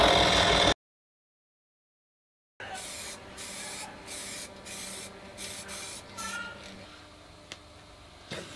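An aerosol can spray-paints a plywood switch in a string of short hissing bursts of varying length, fairly close and moderately loud, after a brief opening burst and a pause.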